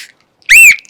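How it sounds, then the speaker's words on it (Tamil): A single short, shrill whistle blast, like a bus conductor's signal to stop, rings out loud and close against near silence. "நார்மலா வந்து கண்டக்டர் வந்து விசில் யூஸ் பண்ணுவார்."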